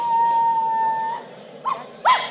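Dog howling, a long steady wavering tone for about a second, followed after a pause by two short yelping barks or whimpers, fairly close and clear with no talking.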